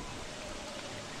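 Steady rain in the video game Don't Starve, a continuous dense hiss of falling drops at even loudness, soft and uniform with no other sounds.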